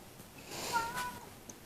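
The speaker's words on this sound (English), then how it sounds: "meow." A cat meows once, quiet and slightly distant, a short rising-falling call over faint background hum.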